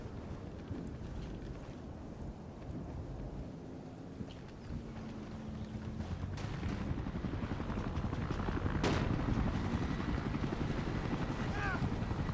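A helicopter flies in the online shooter Battlefield Play4Free, a steady whirring rotor drone that grows slightly louder midway, with brief sharp game effects and a player talking over it.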